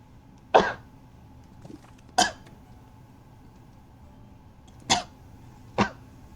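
A character in the Pokémon game Pokopia coughs in four short, sharp bursts spaced unevenly over about six seconds, with a fainter hack between them, over a quiet game background.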